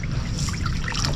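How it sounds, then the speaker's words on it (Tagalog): The rope of a fishing boat is washed in water, giving a steady close trickling and sloshing with no talk. "Gahugas ng lubid ng karabas."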